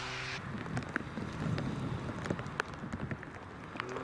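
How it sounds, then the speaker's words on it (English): Rain falls steadily during the Prescott hillclimb motorsport event, a dense hiss of drops with scattered sharper patters, moderately loud and continuous without talk. "As you can see from the wipers, everybody's wipers going, it's still raining at Prescott."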